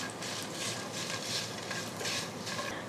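Cumin and white sesame seeds are stirred in a pan over a low flame, giving a soft, continuous rustling scrape with gentle rhythmic swells, faint and steady with no voices.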